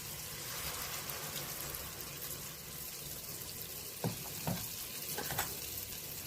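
Puffed snacks frying in oil over a normal flame, giving a steady, close, crackling sizzle with a few sharp clinks near the end; no one speaks.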